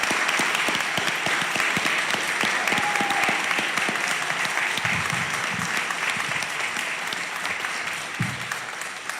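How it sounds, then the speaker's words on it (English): An audience at a school board meeting gives sustained, dense applause, loud and close for about nine seconds, with a few faint voices mixed in and the clapping thinning slightly toward the end. "So give her a round of applause."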